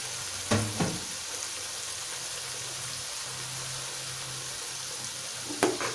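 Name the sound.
stirring sizzling blended spices in pan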